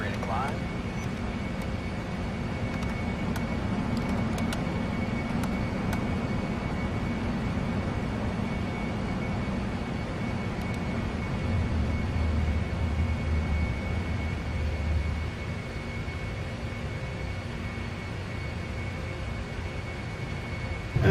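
Airliner taking off in a flight simulator game, steady jet engine roar with a constant whine, sustained and even, with speech passing over the engine noise.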